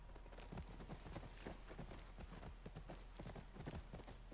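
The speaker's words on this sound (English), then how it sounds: "Right, let's get back on the horse." Horse hooves clip-clop in The Last of Us Part II, a quiet, steady run of hoof strikes at a trotting rhythm over a faint low background hum.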